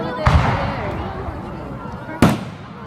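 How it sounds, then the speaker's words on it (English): Fireworks go off in two sharp, booming bursts spaced about two seconds apart, with a lingering rumble after each and voices nearby. "The fireworks are happening literally right there."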